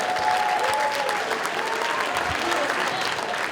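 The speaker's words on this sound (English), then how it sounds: "You guys can clap for that, right?" Dense, continuous audience applause at a lounge show with Mick Foley, a steady roar of many hands clapping at even volume throughout, with faint voices underneath.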